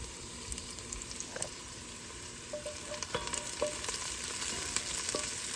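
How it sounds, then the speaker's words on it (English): Onions and garlic frying in a pan, a soft, continuous sizzle close by with occasional light clicks and spoon stirs and no voices. "Once my onions are turning a beautiful brown, I'm going in with my garlic."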